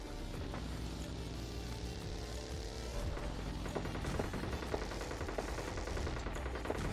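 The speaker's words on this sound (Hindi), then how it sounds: "क्योंकि वहां पर कुछ गन साउंड्स वगैरह आ रहे थे" Distant gunfire in the video game PUBG Lite crackles in scattered bursts and single shots under a steady vehicle rumble, faint and far, with no talk.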